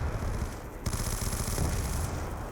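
Light machine gun firing a sustained rapid burst in a Call of Duty match on Nuketown, a dense rattling stream of shots at steady rhythm, close and continuous.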